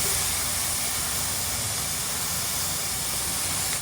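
Fresh prawns hit a pan of cooked-down spice masala, giving a loud, steady frying hiss that fills the whole stretch with no break and no talk over it.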